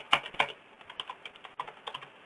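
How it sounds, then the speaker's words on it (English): Someone types on a computer keyboard during a lecture: a quick, uneven run of close clicks and key taps with a couple of louder strikes, no voices. "if you start typing a sentence"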